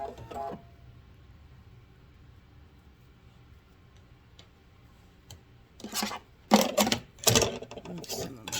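A sewing machine with a left edge top stitch foot runs in short bursts while stitching a grocery bag, quiet handling at first, then several loud close whirring runs of stitching.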